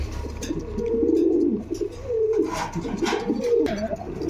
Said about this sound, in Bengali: আরেক পেয়ার শিকড় কবুতর দেখতে পাচ্ছেন ডিম বাচ্চা রানিং কবুতর নটটা ডাকতেছে হাড়ির উপরে